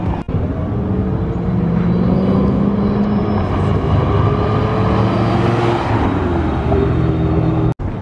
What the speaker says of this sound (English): we have a Mustang taking off right there